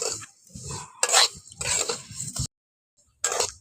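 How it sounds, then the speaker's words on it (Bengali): Vermicelli is stirred and fried in white cooking oil over low heat until lightly browned, giving several close, rough scraping and rustling bursts against the pan, then a short silence before one more burst. "হালকা আঁচে নাড়াচাড়া করে একটু বাদামি করে ভেজে নিয়েছি।"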